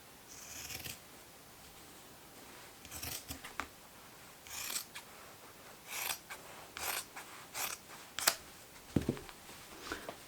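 Scissors cut fabric along a straight line for a sewing project, making a quiet series of crisp snipping bursts in an irregular rhythm with brief pauses between strokes.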